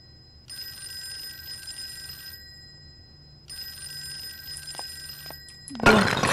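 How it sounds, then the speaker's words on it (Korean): A telephone rings twice in the horror game Fork Road, each long trilling ring followed by a pause, over a low hum, before a loud sudden crash-like burst at the end. "몇 번이나 전화벨이 울렸나요?"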